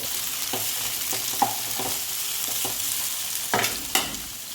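Chopped capsicum tossed into chicken manchurian in a hot wok, giving a continuous hissing sizzle with several sharp scraping and stirring knocks scattered through it.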